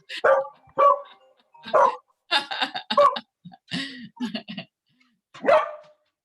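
Pet dog barking indoors during a home video call, a series of loud close barks and yips in irregular bursts over several seconds.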